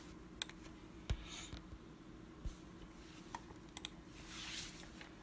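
Computer keyboard presses for Ctrl C and Ctrl V shortcuts, a few faint, sparse clicks spaced irregularly against quiet room hiss.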